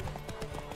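A horse gallops in The Witcher 3 during a race, with quick, quiet hoofbeats under a faint background bed and no talking.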